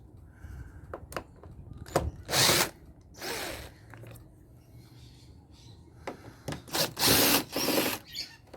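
A power drill backs screws out of an aircon head during teardown, firing in several short bursts and two longer whirring runs, close and fairly loud, with quiet handling noise between.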